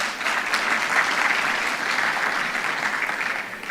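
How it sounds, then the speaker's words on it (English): A room full of attendees at an open-science gathering clapping together, a dense, even burst of applause that holds steady for a few seconds with no talking over it. "Kindly clap for her."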